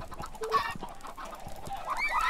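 Many Minecraft chickens in the Hexxit modpack cluck and squawk in a crowded flock, overlapping short calls in an uneven rhythm over faint background game noise.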